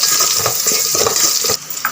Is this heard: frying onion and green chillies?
yes